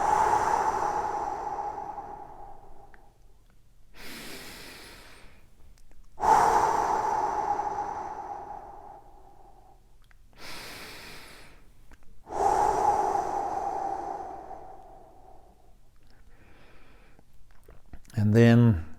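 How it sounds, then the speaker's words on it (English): Three slow, deep belly breaths are taken during a guided relaxation exercise for runners. Each long breath is close and audible and comes at an even, unhurried pace, with quiet pauses between breaths and no speech. "we're going to take 3 big deep belly breaths and really reach down and fill your lungs up"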